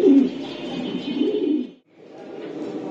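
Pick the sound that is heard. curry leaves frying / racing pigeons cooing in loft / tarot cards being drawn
racing pigeons cooing in loft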